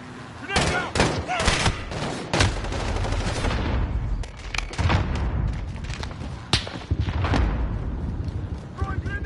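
Call of Duty combat with a grenade blast amid rapid bursts of gunfire, loud and close, sharp cracks and booms layered over constant battle noise while voices shout underneath.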